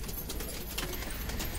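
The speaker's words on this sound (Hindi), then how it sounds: "ये एक लाल खलंजा बड़ा कबूतर है" A large red khalanja pigeon coos softly in a close, muffled series of low notes under a steady background hum, with a few faint taps.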